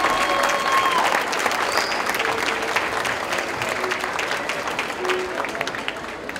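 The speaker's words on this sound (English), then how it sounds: "Round of applause for being here." Loud crowd applause at a jazz coffee concert, continuous clapping filling the room, with a few faint tonal sounds from the venue drifting underneath.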